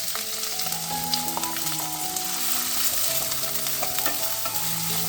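Finely chopped onions and four green chillies fry in a big spoonful of ghee for a fish kachuri filling, making a loud, continuous sizzle with melodic background music playing throughout.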